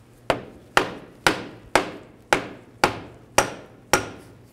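A hammer strikes a CV axle on a Chevy Cruze eight times at a steady, even pace, each sharp metallic hit loud and close, ringing briefly before the next blow, with no talking.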